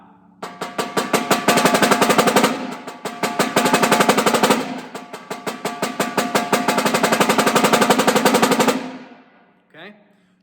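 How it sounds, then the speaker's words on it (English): Snare drum roll built from dense, rapid strokes, rising and falling in waves before swelling louder and stopping abruptly, followed by a single faint hit. "Let's say you want to do a roll that goes from soft to loud."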